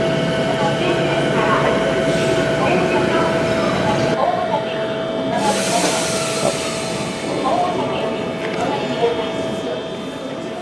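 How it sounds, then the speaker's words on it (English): The Metro Hakone limited express subway train pulls out of a Japanese station with a steady rumble of wheels and motors, a hiss partway through, and a faint squeal as it draws away, with no one speaking over it. "That is Metro Hakone leaving earlier."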